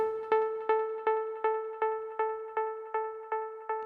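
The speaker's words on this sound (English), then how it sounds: "We're going to start off simply and just crank up the feedback on this delay." A single tonal hit repeats in a steady dub delay echo train with feedback at 95%, about every 0.4 seconds, each repeat slowly decaying with a long sustained tail, no voices.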